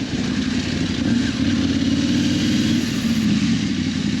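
Motorcycles revving during illegal street racing at a busy roadside hangout spot in South Kalimantan, with a dense, continuous engine drone and whine nearby and no voices.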